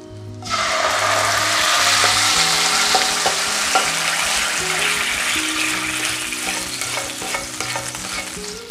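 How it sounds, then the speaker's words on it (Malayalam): Hot shallot tempering poured into a Kerala pumpkin curry, bursting into a loud, sudden sizzle that holds as a dense, steady hiss and slowly fades, with faint bubbling and clinks underneath. "നമുക്ക് താളിച്ചെടുത്തിരിക്കുന്നത് കറിയിലേക്ക് ചൂടോടുകൂടി തന്നെ ചേർത്ത് കൊടുക്കാം."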